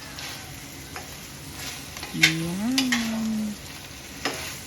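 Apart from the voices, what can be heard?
beef tapa frying and being stirred in a pan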